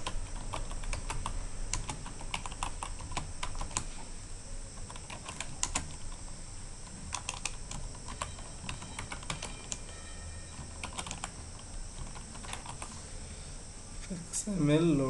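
Steady computer keyboard typing while code is written for a JavaFX program, rapid irregular key clicks running throughout at moderate level, with a brief different noise near the end.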